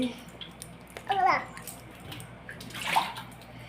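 A young child splashes in bathwater while being bathed, with two brief bursts of splashing and sloshing set against soft room noise and a child's babbling.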